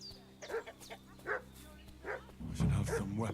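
A dog barking in a medieval 1400s-set video game, several short yips and barks spaced irregularly, mid-distance, with a low rumbling noise rising toward the end.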